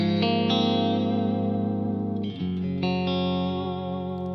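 A 1991 electric guitar with dirty pots rings out sustained chords drenched in atmospheric reverb, with the chord changing about halfway through, loud and close, with no voices.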